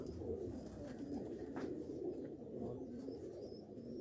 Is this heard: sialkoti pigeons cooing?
yes